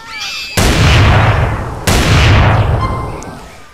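Two loud, heavy gunshots boom from a chrome green weapon mod in GTA San Andreas, each with a long decaying tail, spaced about a second apart with no talk.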